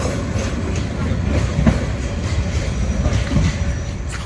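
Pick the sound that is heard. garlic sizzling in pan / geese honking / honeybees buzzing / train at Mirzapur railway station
train at Mirzapur railway station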